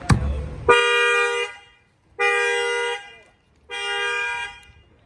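A 2020 Honda Accord's alarm sounds three separate horn blasts, each lasting close to a second with brief gaps between them, loud and close after a short thump at the start.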